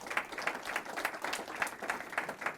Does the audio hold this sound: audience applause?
yes